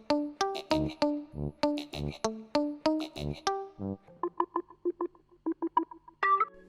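A layered synth lead blended with brass, made in FL Studio, plays a bright staccato melody of punchy stabs, then shifts to a thinner, quicker run of shorter notes, all alone with no voices.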